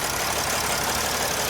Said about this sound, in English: Yeah, this thing is misfiring really badly.